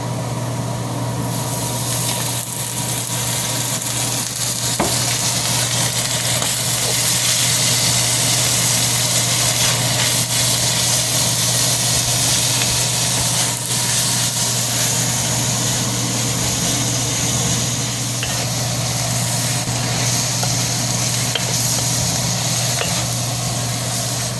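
Home-rendered lard sizzles in a hot wok as a steady, dense hiss that runs without a break over a constant low hum, with no talking.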